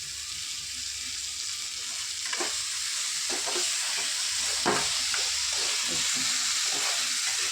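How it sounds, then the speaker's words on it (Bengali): Boiled potatoes sautéed with spices in a hot pan, a steady sizzling fry punctuated by several scraping stirs of a spatula, close and fairly quiet with no talking. "আলুগুলো এবার সেদ্ধ আলুগুলোই এর মধ্যে দিয়ে ভালো করে কষে নেবো।"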